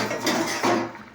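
A metal lid is set onto a cooking pot after more water is poured in, giving two close, light clanks with a short ringing tail. No one speaks.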